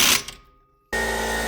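An impact gun tightens a bolt through a trailing arm bushing bracket on a 2006 Subaru Outback. Two close bursts of whirring are split by a brief pause, the second burst loud and unbroken.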